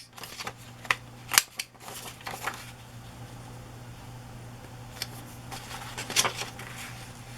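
Scissors snip around the corners of paper for a collage, giving a few sharp, crisp cuts in two short bursts at close range against a quiet room.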